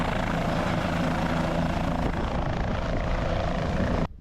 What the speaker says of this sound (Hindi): भीड़ बढ़ने लग गई थी और हेलीकॉप्टर भी आने शुरू हो चुके थे।